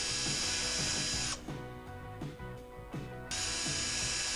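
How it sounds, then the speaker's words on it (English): A T25 Torx driver spins out the carburetor screws on a Ryobi backpack blower, giving a close, rapid run of ratcheting clicks that drops in level for a couple of seconds and then picks up again. "So it's gonna be T25 Torx to spin these screws loose."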